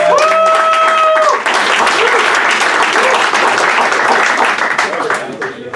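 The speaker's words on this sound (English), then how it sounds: "A big round of applause." Audience applause fills the room at a summer graduation leadership panel, loud and sustained, with a voice and some tonal sounds over the first second before the clapping swells and then slowly thins.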